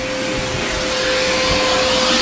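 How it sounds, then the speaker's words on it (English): A vacuum cleaner runs inside a Pause XC 20.3 RV trailer with a loud, steady whirring roar and a constant high motor whine, close by and uninterrupted, with no talking. "I can vacuum up along here."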